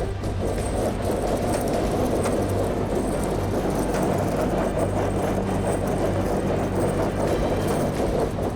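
Heavy tow truck known as The General grinding uphill while pulling a wreck on a highway, its engine a loud, steady, low labouring roar with no break across the stretch.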